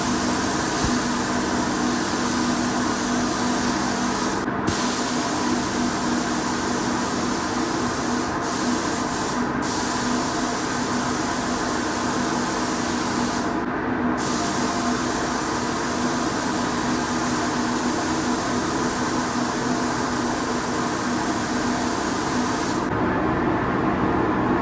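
A spray gun hisses steadily as it lays pearl coat paint onto a BMW E92 M3, the continuous spray broken by a few brief pauses between passes, loud and close throughout.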